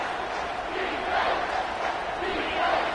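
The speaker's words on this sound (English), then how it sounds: "Big third down as the crowd gets behind this defense." A football stadium crowd roars steadily in support of the defense on a big third down, a dense, continuous wall of cheering with some swells, heard far off and filling the whole space.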